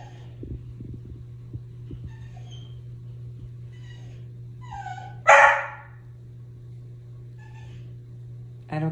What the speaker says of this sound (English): Bark away.